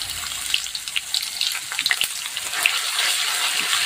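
Ginger and garlic paste frying in hot oil gives a soft, irregular crackle and spatter of small pops over a quiet sizzle, heard close with no voices.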